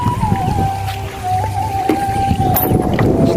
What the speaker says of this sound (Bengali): আমরা এখন এই যে নৌকাতে উঠতেছি, আপনারা দেখেন।